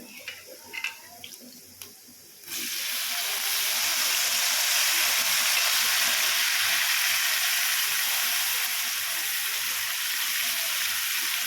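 Washed broad beans go into a hot pan of tempering oil, setting off a sudden loud sizzle that holds steady and hissing after a few quiet kitchen noises at the start.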